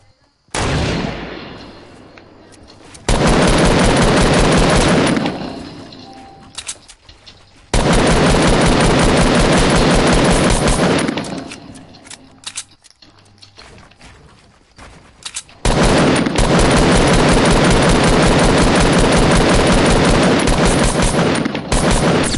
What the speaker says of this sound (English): Oh no, I had gunshots at me.